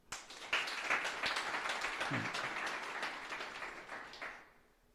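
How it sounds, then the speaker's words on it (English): An audience gives a round of applause at a programme event, steady mid-distance clapping from many hands that swells quickly and fades after about four seconds. "For that, you deserve a round of applause"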